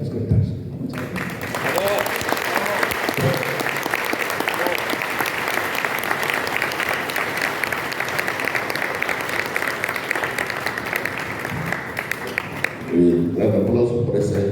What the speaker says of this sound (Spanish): Gran aplauso por esa excelente ponencia.